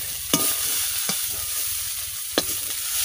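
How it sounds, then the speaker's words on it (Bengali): Shrimp frying in a pan with a steady, bright sizzle throughout, broken by three sharp scraping stirs of a utensil at close range. "চিংড়ি মাছ দিয়ে দিচ্ছি"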